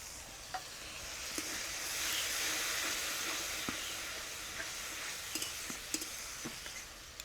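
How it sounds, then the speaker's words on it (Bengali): Spice paste of tomato, turmeric and chilli powder with a little water frying in a pan for a fish curry, a continuous close sizzle and hiss with scattered sharp ticks of utensil contact. "মশলাটা ভাজা হয়ে গেছে"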